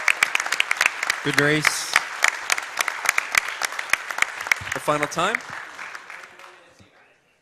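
An audience at a speedrun event for Magical Quest starring Mickey Mouse claps loudly in a dense burst of applause that gradually fades out, while a commentator speaks over it.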